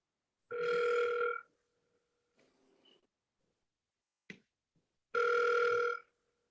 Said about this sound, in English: On the second ring, I'm going to answer the phone.